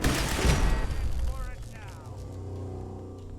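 Gunfire aimed at a turret in Fallout 4, a loud burst of shots in the opening second that fades into lower rumbling, with someone talking over it.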